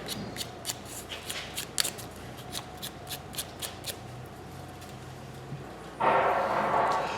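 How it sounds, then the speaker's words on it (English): Hand sanding of a turned wooden spinning top with sandpaper: steady, rhythmic scratchy strokes, close and fairly quiet over a low hum, ending in a louder, continuous rasping rush. "Take a little sandpaper and kind of smooth the top off"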